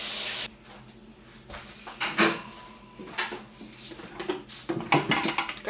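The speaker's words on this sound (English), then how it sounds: "put the dough somewhere and wash out the bowl" A mixing bowl being washed out after making naan dough, with running water at first, then scattered clunks, scrapes and knocks of the bowl being handled in a sink, close and moderately loud.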